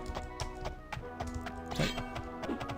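Horse hooves clip-clop steadily in the video game The Elder Scrolls II: Daggerfall, a close, even rhythm of knocking steps over a low game background.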